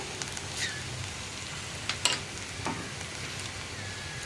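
Ground spices fry on a low flame in a pan with green chilli and pepper, a gentle steady sizzle broken by a few scraping stirs and taps, close and quiet with no talk.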